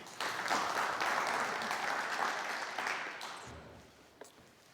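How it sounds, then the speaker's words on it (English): Audience clapping at a tech conference breakout session, a steady wash of applause that fades gradually toward the end. "You are allowed to clap,"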